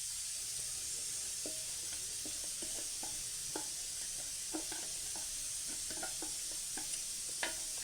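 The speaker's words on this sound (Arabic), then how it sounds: "ونحط هنا في المقله" Food frying in a pan gives a continuous bright sizzle with scattered small pops and clicks of stirring throughout, fairly quiet and without talk.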